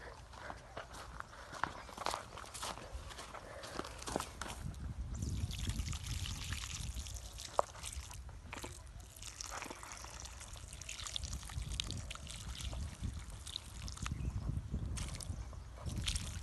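Water pours and trickles onto soil around a planted cluster fig sapling in an uneven stream, with shuffling footsteps and outdoor background noise.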